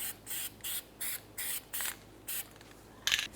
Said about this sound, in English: Let's apply some anti-seize to this area, being extremely careful not to get it on our parking brake shoes.